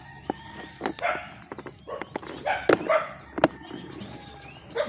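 Several dogs bark in quick, overlapping bursts, some close and sharp, others further off, with a few clucks and bird sounds mixed among the irregular yapping.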